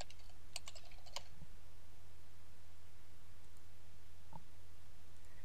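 Someone types a web address on a computer keyboard: a short, quiet burst of clicking keystrokes, then near silence over a low steady hum with one more faint tap.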